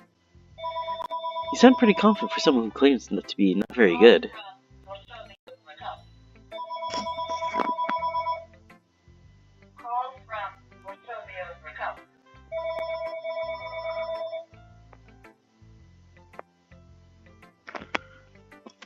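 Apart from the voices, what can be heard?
home telephone ringing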